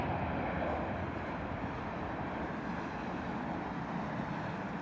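A small passenger jet, likely a Loganair ATR 72-500, taking off at London Heathrow. It makes a steady, broad engine roar heard from a distance, with wind noise on the microphone and no talking.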